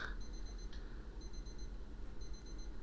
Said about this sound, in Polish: Zostawiłem budzik na pierwszą w tej grze